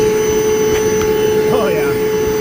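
A shop vac sucks hard on the open end of a tube from a FLEX lane machine's buffer brush drip system, giving a loud, steady roar with a fixed whine. A voice briefly sounds over it.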